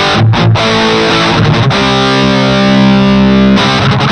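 A heavily distorted electric guitar played through a Valeton Coral amp modeler plays loud, saturated chords, ringing out on a sustained crunchy note before another strum.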